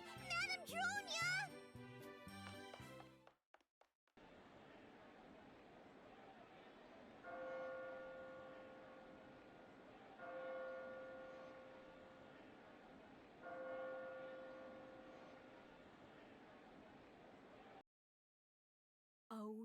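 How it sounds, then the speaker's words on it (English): A church bell tolls three times at steady intervals in the video game Labyrinth of Refrain, each clear ringing tone standing out over a low background hum, preceded by brief bright game jingles. "Oh, there's that awful bell."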